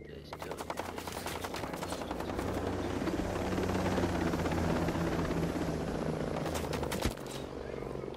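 Helicopter flying overhead in the video game Ghost Recon Breakpoint, a steady loud rotor drone with rapid gunfire bursts mixed in across the whole stretch, no talking.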